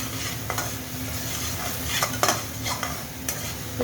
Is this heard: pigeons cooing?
no